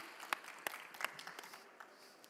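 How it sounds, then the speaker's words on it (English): Light applause from a conference audience for a panel, a handful of scattered claps standing out against a quiet room, thinning toward the end. "A round of applause for our panelists"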